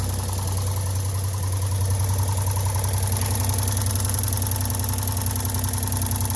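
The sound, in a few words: idling car engine with ticking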